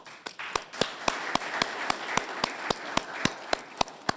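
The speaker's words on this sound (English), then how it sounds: "please join me one more time to give a roaring round of applause to our heroes of this function" Audience applause at a school function, with steady rhythmic clapping carrying over a broad crowd wash and sharp, evenly spaced claps standing out close by.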